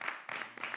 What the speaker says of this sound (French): Je voudrais qu'on applaudisse nos réalisateurs.